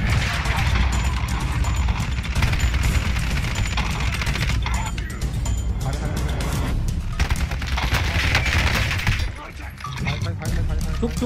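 Dense, sustained gunfire and explosions from a Call of Duty Warzone match fill the scene at steady loudness, with players talking over the battle throughout.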